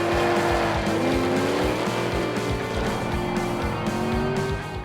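A drift car at Power Nationals leads a tandem run with a chase car following. A loud, continuous engine roar rises and shifts pitch through the turns, with sustained tire squeal layered over it and no talking.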